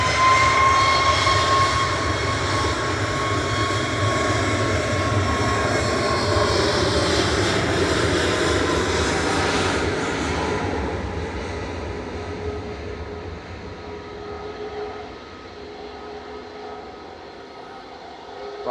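Ryanair jet airliner taking off from Manchester Airport for Malaga, a loud sustained engine roar that slowly fades as it climbs away.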